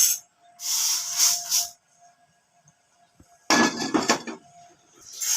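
Dry roasted rice for Thiruvathirai kali poured from a pan onto a plate to cool: two bursts of loose, hissing, rattling grains cascading close by, separated by a quiet gap.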